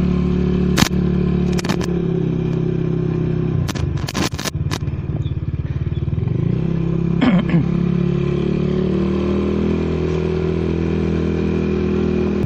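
A ten-year-old Supernova motorcycle, bought in 2012, rides along in light drizzle, its engine droning steadily up close, with a few sharp clicks and clatters from the bike along the way.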